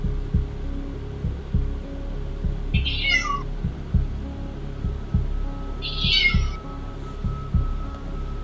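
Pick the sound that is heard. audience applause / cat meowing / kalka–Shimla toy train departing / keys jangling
cat meowing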